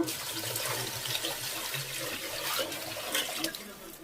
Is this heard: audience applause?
no